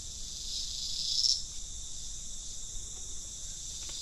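Cicadas drone in the remote countryside, a steady high-pitched shrill whine that swells briefly early on and then holds constant, with no speech.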